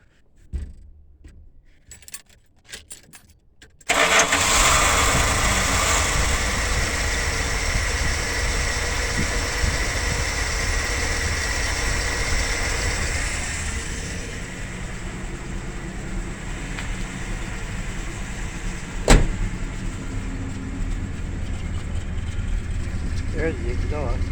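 A Dodge 360 V8 in a motorhome cranks and catches, then idles steadily and loudly up close for about twenty seconds, with one brief sharp knock partway through.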